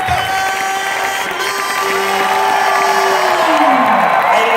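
A loud audience cheers, whoops and applauds for Stan Lee in a continuous roar that holds steady and swells slightly toward the end.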